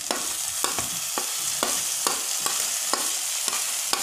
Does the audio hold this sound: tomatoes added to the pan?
yes